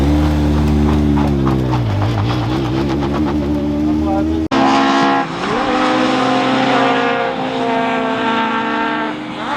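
A race car on a circuit revs loudly with rising and falling engine tones through gear changes, then roars onward after a brief cut, with people talking over the engine noise.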